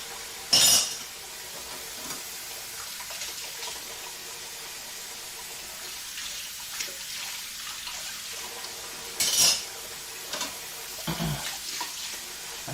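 Dishes being washed under a running tap, with continuous water flow broken by a few sharp clatters of crockery and pans.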